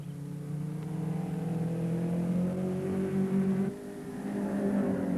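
Race car engines during the 1964 Road America 500, a steady droning roar that rises in pitch, with a sudden drop near the end as the note shifts, loud and continuous with no talk.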